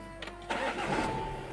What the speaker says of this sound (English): Let's quickly start the car.